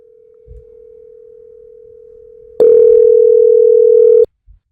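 A steady, faint phone-line tone jumps into a loud ringing tone for about two seconds, then cuts off, heard through a telephone earpiece.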